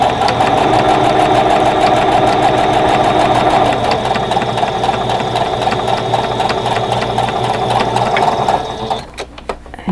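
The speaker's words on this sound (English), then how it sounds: "I have my 1/4 inch sewing presser foot on and stitching 1/4 inch" A sewing machine stitches a quarter-inch seam on a quilt block with a quarter-inch presser foot at 2.5 stitch length, a loud, fast, even mechanical clatter running continuously nearby before stopping abruptly near the end.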